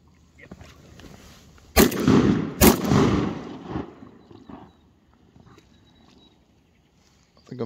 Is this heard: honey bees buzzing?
no